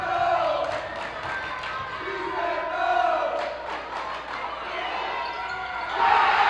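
Crowd at a high school varsity boys basketball game roaring during a free throw, a loud sustained cheer with shouts rising and falling, a commentator talking over it and a sharp swell of noise at the end.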